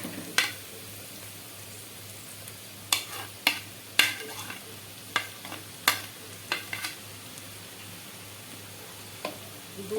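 Pasta being stirred with vegetables in a pan over a low flame, with a soft continuous sizzle and repeated sharp spatula scrapes and clacks at an irregular pace, close up and without speech.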